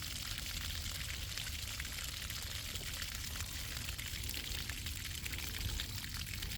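Water draining steadily from an RV hot water heater with heavy corrosion, a continuous close splashing pour that runs unbroken and even in level throughout, with no talk over it.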